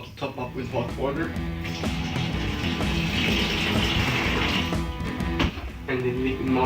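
Hot water gushes from a tap into a home-brew fermenter holding brewing sugar, a continuous, fairly loud splashing fill that runs the whole time with a couple of brief knocks near the end.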